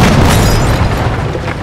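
An explosion in the tactical video game Jagged Alliance 3, a loud, heavy boom with a deep rumbling tail that slowly fades over a second and a half.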